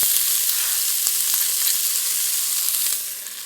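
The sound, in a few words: celery and onion sautéing in bacon fat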